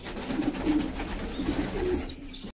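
Young racing pigeon chicks in a loft give soft, low cooing calls, several short coos in a row, close and fairly quiet, with no talking.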